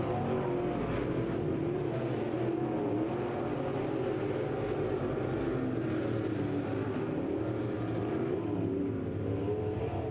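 Power IB modified race cars on an oval track during a heat race, engines droning loud and steady for the whole stretch, a dense layered roar with no voices over it.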